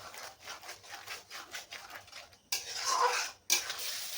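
Tomato paste and a spoonful of salt being stirred in a pan for fish kaliya, a steady scraping and rubbing of the spoon against the pan in rhythmic strokes, louder and denser toward the end, with no talking.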